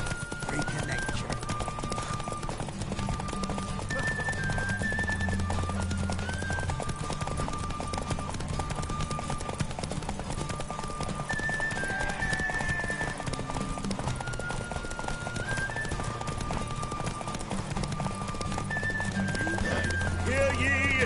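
Steady clip-clop of horse hooves galloping in The Witcher video game, a continuous rhythmic pounding under game music chimes and occasional character speech.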